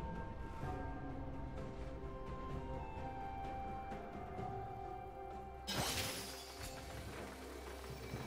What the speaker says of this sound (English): Blue team's turret has been destroyed.